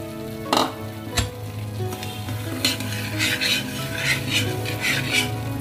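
Suji halwa with sugar being stirred in a hot pan, a steady scraping and sizzling that carries on throughout, with a few louder spoon knocks against the metal near the start.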